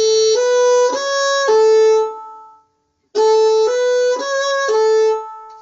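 A violin plays a short phrase of four slurred notes, bowed smoothly and close, then pauses and repeats the same four-note phrase.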